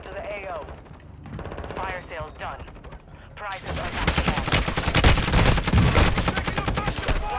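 Automatic gunfire from a weapon in Call of Duty: Modern Warfare II, dense rapid bursts that grow loud and sustained over the second half, with voices talking over the shooting in the first part.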